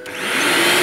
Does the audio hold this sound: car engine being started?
no